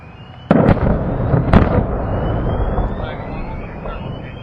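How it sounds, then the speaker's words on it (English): A flare fired during destruction of ammunition: a sharp pop and burst followed by a second crack, then a sustained whooshing hiss as it flies off, loud and close. "There goes the flare."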